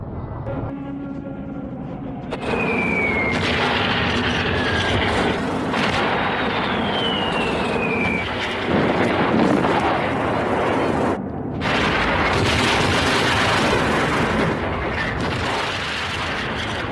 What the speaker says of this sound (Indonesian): pesawat tempur Soviet menjatuhkan bom, memporak-porandakan gedung sekolah dan sekitarnya.